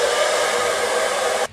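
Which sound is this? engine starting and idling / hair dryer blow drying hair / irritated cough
hair dryer blow drying hair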